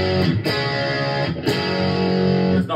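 A heavily distorted electric guitar chord through an MXR Zakk Wylde Overdrive pedal at full gain rings out, struck a few times with sustained, saturated, fairly open overdrive and short gaps between strums.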